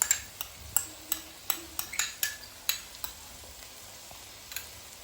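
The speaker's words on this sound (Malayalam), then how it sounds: "4 ടേബിൾ സ്പൂണ് ടൊമാറ്റോ സോസ് എടുത്തിട്ടുണ്ട്. അത് ഇതിലേക്ക് ആഡ് ചെയ്യാം." Tomato sauce goes into a pan of chicken for fried rice, with a faint sizzle under a series of sharp spoon taps and scrapes against the pan, spaced irregularly and heard up close.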